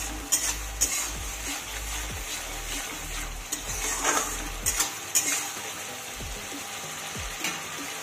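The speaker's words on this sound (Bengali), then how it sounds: "পেঁয়াজ রসুনটাকে বেশ ভালো করে কষিয়ে নিলাম" Onion and garlic sautéed in oil over medium heat in a pan for a pabda fish dish: a steady sizzle runs under repeated scraping strokes and metallic clinks of a spatula against the pan, close-up and without speech.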